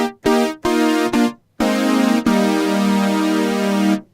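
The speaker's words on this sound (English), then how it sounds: "Then we have my hardware synth, the MKS-80. It sounds like this." Roland MKS-80 hardware synth sounding an 80s brass stab, with three short punchy chord hits followed by a long sustained brassy chord, loud and close with no talking.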